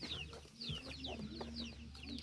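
Hens brooding on eggs in a rural tribal village in southern Laos, giving faint, soft clucks amid outdoor ambience and high chirping birds.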